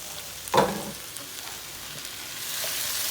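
Minced garlic and mushrooms frying in a pan, a broad continuous sizzle with a brief louder burst early on, then a steady hiss that swells slightly toward the end.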